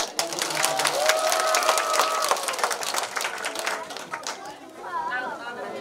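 An audience at a welfare center gathering claps in a warm, sustained round while voices chatter and a few people speak over it.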